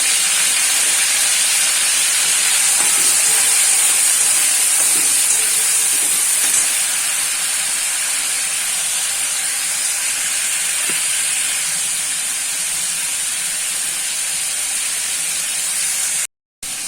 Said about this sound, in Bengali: আমি চিংড়ি মাছটাকে ভেজে তুলে নেব